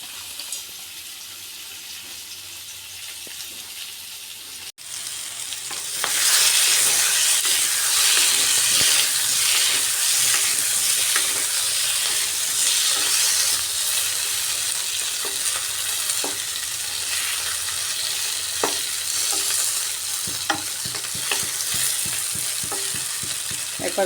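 Potatoes fry in a pan for alur dum, a loud steady sizzle that swells after a quiet start, with frequent scraping clicks from stirring and turning.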